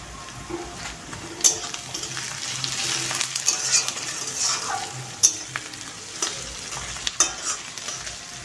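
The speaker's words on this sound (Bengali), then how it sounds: "চিনিটা দেওয়ার পর আর কিছুক্ষণ নেড়ে চেড়ে" A spoon stirs lightly fried onion with added sugar in a hot pan, scraping and sizzling close by with sharp clinks against the metal, steady frying hiss underneath, no voices.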